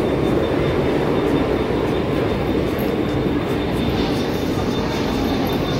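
A Mumbai local train runs loud and close with a steady, dense rumble and roar, heard from inside a carriage around Dadar; no voices stand out.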